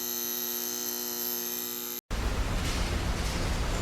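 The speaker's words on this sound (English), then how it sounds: "That is ambient gas pipe.mp3. Got some light buzz." Ambient gas pipe buzz effect from WET: a steady tonal hum with bright harmonic whine for about two seconds, a brief cut, then a dense hissing rush of broadband noise continuing to the end.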